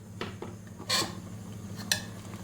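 A spoon scrapes and clinks against a pressure cooker on a gas flame while chicken khichdi is stirred: a few short, close metallic strokes over a low steady hum.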